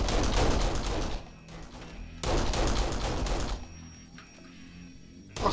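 Machine gun fire in the shooter game Kane & Lynch: Dead Men rattles out in two long, loud, sustained bursts, each trailing off into fainter scattered shots, with no talking.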